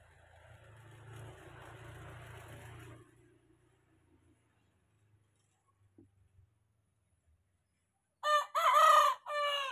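Low traffic rumble fades out, then after a quiet stretch a single loud rooster crow rings out nearby.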